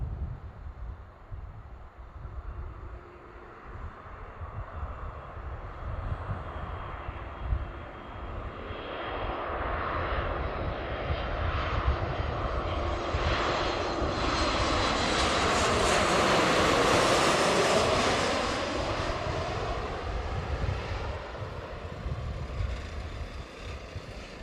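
An Alaska Airlines jet on flight 468 from Boise comes in to land, its roar swelling from a distant rumble to a loud, broad rush with a falling whine as it passes, then fading.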